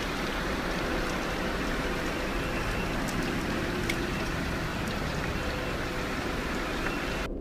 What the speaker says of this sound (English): he decides to take a random video of the rain